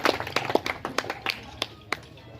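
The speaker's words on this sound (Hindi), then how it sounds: "मैं चाहूँगा कि आप लोग एक जोरदार तालियों के साथ सर का स्वागत करें" Sparse, uneven claps from an audience welcoming MP Vivek Thakur, a handful of sharp separate hand claps spaced irregularly over a couple of seconds rather than full applause.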